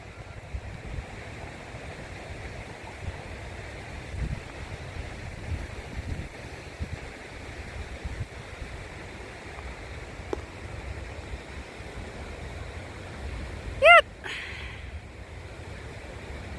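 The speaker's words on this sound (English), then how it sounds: "So the old water wheel's spinning again. It's like a waterfall display." Falling water rushes steadily from a restored old mill's turning water wheel in a park, a constant soft wash with a brief high chirp near the end.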